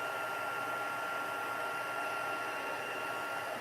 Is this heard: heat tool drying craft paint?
yes